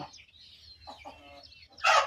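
Laying hens of a parrot-beak breed cluck in short, scattered bursts close by, quiet between calls, ending in a louder squawking flurry.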